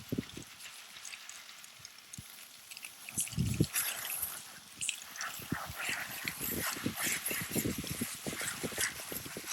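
Water splashing and trickling over a WYBOT C2 Vision pool robot as grease is rinsed off, an uneven run of close wet spatters and drips at moderate level, with no voices.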